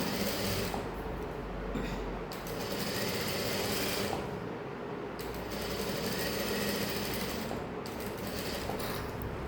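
A sewing machine stitches a saree blouse, running in a steady fast mechanical whir with brief pauses and restarts, close and continuous without talking.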